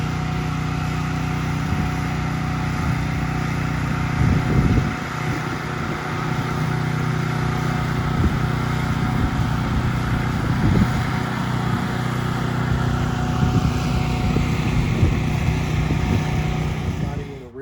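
A rear-tine garden tiller engine runs continuously, a steady close mechanical drone holding an even level with slight rough flutters and no pauses.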